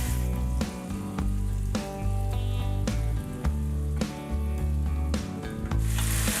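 Whole garlic cloves and green chilies fry over medium heat in a pan, a loud steady sizzle broken by repeated stirring scrapes, with no one talking.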